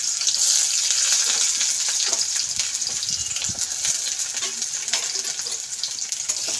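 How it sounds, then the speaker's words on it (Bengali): Onion and dried red chilli frying in hot oil, a bright continuous sizzle with crackles, close and steady, without talk. "তো এবার তেলটা আমাদের গরম হয়ে গেছে, শুকনো লঙ্কাটা, এবার আমি পেঁয়াজটা দেবো"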